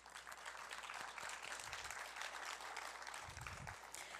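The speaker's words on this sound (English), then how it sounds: "And I'd like to give them a round of applause right now." An audience gives a round of applause at a celebration of the female mathematicians of NACA and NASA, a quiet, distant wash of clapping that holds steady throughout.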